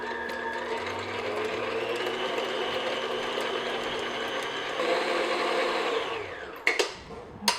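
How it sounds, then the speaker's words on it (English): An electric hand mixer creams butter in a bowl, whirring steadily and close for about six seconds before winding down, followed by a few sharp knocks of the beaters against the bowl. "we're going to mix the butter until it's creamy and smooth"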